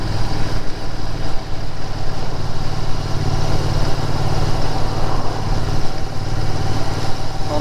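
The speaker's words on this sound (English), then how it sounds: "I do like this Tech Stinger exhaust" A Royal Enfield Interceptor 650 with a Tech Stinger exhaust rumbles steadily while riding, a loud, continuous low engine drone with wind noise and no gaps.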